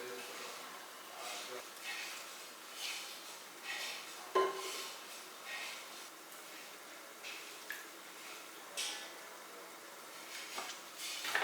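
A spoon stirs gram flour batter in a bowl, making repeated soft scraping strokes in a loose rhythm. Quiet and close, with occasional light clinks.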